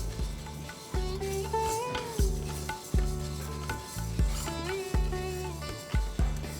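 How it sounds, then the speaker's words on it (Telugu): Moong dal is dry-roasted on medium flame, and a spatula scrapes through the lentils in a pan in regular strokes about once a second, with a low steady hum and tonal sound behind. "పెసరపప్పు రోస్ట్ చేస్తున్నాం కదా"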